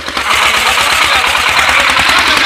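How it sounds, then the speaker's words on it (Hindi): A homemade mini tractor engine runs while ploughing damp farmland. It gives a loud, close, continuous chugging with a fast, even rhythm of low thumps, and no voices are heard. "इस छोटे से जुगाड़ू ट्रैक्टर द्वारा यहाँ पर जुताई"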